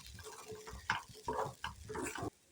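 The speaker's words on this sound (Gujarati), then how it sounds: "વચ્ચે વચ્ચે આપણે તેને હલાવતા જઈશું જેથી કરીને તે તળિયે બેસી ના જાય" A spatula scrapes and stirs a thick green pigeon pea filling for lilva kachori in a pan in several short, close strokes, with no talking.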